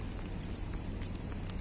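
Steady rain pours down outside a rural dwelling, a dense, even hiss of drops on surfaces with no break and no voices.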